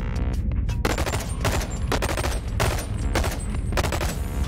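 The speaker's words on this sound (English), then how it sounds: "I am point blank firing at you." Repeated close gunfire in the VR game Bonelab, loud sharp shots fired in quick bursts roughly every half second, continuing steadily with no talk over it.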